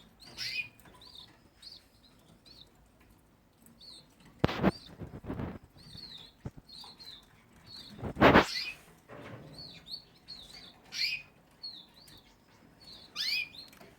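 Canaries give short, high chirps in irregular bursts from close by, with a female signalling to a male, broken by a few louder rustling flutters and scratchy cage noises.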